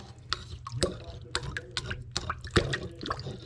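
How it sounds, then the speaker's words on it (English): A tablespoon scrapes scales off a bluegill held under running kitchen tap water, giving a steady trickle broken by irregular sharp scratchy strokes and wet drips, close up, with a voice speaking over it. "I hold my fish under the water, and then I scrape it."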